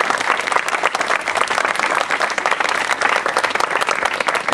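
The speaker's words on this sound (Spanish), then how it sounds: "Deseamos que le demos un fuerte aplauso" Loud, vigorous applause from an audience at a contemporary art contest ceremony, a dense rapid clatter of many hands clapping steadily throughout.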